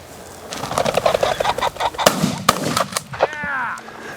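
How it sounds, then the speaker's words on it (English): Shotgun blasts during a youth pheasant hunt in open fields, several sharp, loud reports spaced over a few seconds, with bird calls and flapping wings mixed around them. "I like shooting pheasants."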